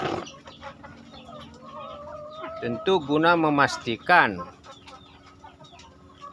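Breeding hens kept for eggs and chicks cluck and call, rising into a cluster of louder squawks midway, beneath continuous speech.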